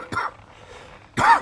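A person gives two short, rough coughs about a second apart, close and fairly loud with quiet between them.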